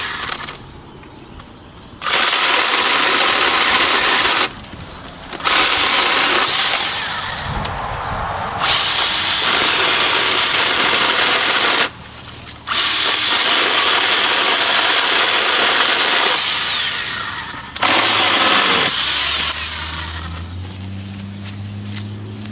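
A chainsaw cutting apple tree branches roars loud and close in long sustained bursts, dropping off briefly between cuts and idling down near the end.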